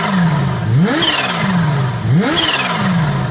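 A 2022 Kawasaki H2 SX SE supercharged motorcycle engine revs loudly and close, with two sharp rises in pitch and a whining supercharger whistle, each followed by a long falling deceleration.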